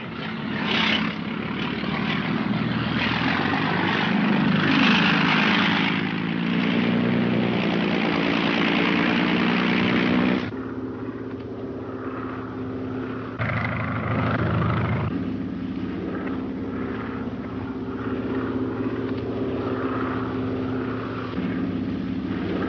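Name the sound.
propeller airplane flying overhead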